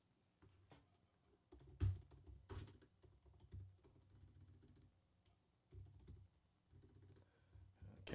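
Soft, close typing on a computer keyboard: uneven runs of light key taps with short pauses and a couple of sharper thumps, quiet throughout with no talking.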